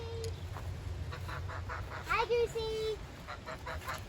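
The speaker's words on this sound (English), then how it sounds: "So there's our goose." A garden goose gives a couple of short honks, close and clear against quiet outdoor background with faint low rumble.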